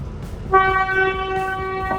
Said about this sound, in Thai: มาเจอรถไฟพอดีเลย